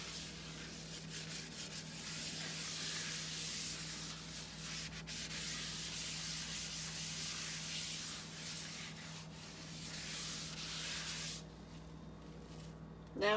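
Cast iron sink being scrubbed with Bar Keepers Friend cleaner, a close, continuous rough rubbing and scouring in quick back-and-forth strokes that stops near the end before a brief louder noise.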